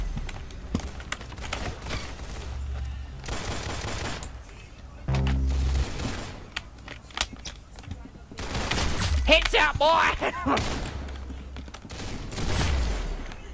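Bursts of rapid gunfire in the Roblox game Arsenal, mixed with clacking from a G-Lab Tungsten mechanical keyboard, loud and close, with a short spoken exclamation from a player.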